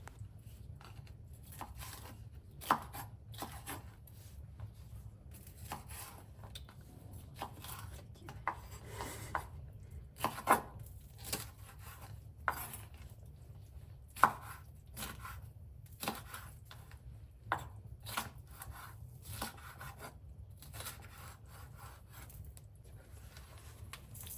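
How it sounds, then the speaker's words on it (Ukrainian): A knife chops bell pepper into large pieces on a cutting board for bograch stew, in sparse, irregular strokes, quiet and close, with no speech. "нарізаю його на такі самі величенькі шматочки"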